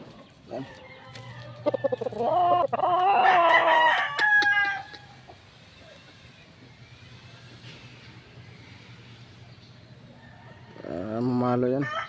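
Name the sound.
rooster crowing and clucking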